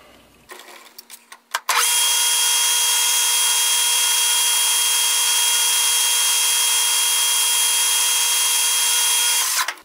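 A metal lathe turning a one degree taper on a zinc ring mold runs loud and steady with a sustained whine from about two seconds on, after a few short clicks and knocks at the start.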